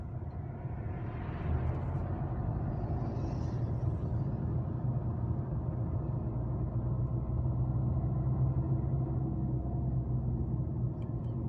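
A manual car in second gear drives along a multi-lane Istanbul road, a steady low engine rumble and road hum heard from inside the cabin, continuous and moderately quiet.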